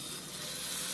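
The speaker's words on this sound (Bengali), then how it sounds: "এখন মেটে বেশ ভাজা ভাজা করে নিচ্ছি।" Liver frying in a pan with tomatoes, a steady close sizzling hiss throughout, even and unbroken, with no voices.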